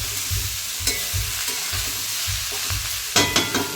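Food frying in a pan being stirred, rhythmic close scrapes of a utensil over a steady sizzle, with a louder burst of clattering stirs near the end.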